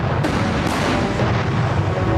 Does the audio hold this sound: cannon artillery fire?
yes